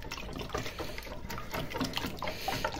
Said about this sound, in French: Et je rajoute mon eau.